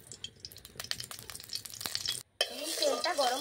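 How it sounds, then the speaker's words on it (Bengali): White cooking oil heats in a hot wok, giving a faint, uneven crackle and clatter that cuts out briefly before a brighter, steadier sizzle takes over. "কড়াইয়ের মধ্যে দিয়ে দিচ্ছি সাদা তেল।"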